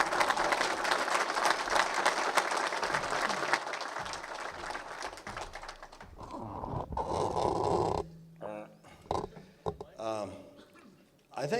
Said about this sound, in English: let's give a good round of applause for Don Prudhomme